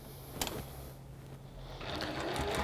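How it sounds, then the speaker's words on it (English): A sewing machine stitching a quarter-inch seam runs in a steady mechanical whir at close range, with a brief clatter near the start and the motor growing louder toward the end. "you're going to sew the seam, 1/4 inch seam, down this side on your right hand side"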